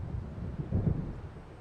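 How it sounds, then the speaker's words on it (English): A low, rolling rumble of thunder from a gathering storm over the water in the video game Alan Wake, brief and moderately loud with a muffled, windy texture. "It seems there's a storm coming."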